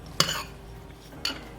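A spoon stirring brown sugar and pumpkin pie spice with a warm liquid in a bowl, three sharp clinks against the side spaced out over under two seconds, close and fairly quiet.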